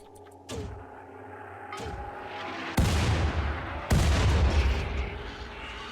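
Mortar shells fire one at a time in a barrage in the colony game Rimworld, each launch a loud booming thud followed by a long rumbling tail over steady background noise.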